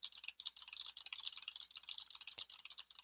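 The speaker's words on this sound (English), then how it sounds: "I'll hit some keys on my Huntsman Elite so you can kind of hear what that sounds like" Keys typed on a Razer Huntsman Elite keyboard, a fast irregular run of crisp clicky taps heard close and alone, with one brief low thump near the end.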